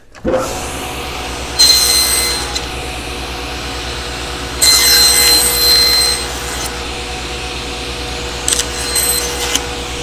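A saw cutting wood for a jewelry box, a cut a little under half an inch, with a steady motor drone throughout and three louder bursts as the blade passes through the stock, close and fairly loud.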